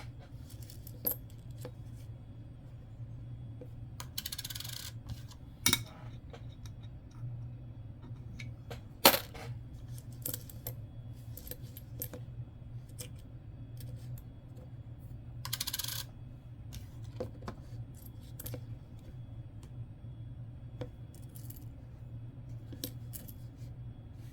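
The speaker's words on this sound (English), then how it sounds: "So here I'm just flipping the coins now, looking for copper." Pennies being flipped and sorted by hand in a hunt for copper coins, giving soft, irregular metallic clinks and scrapes with a few sharper clicks over a steady low hum; no one speaks.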